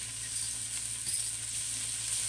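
Peppers and onions cook in a pan with oil and butter, producing a faint, even sizzle that holds steady throughout and sits close and alone, with no talking.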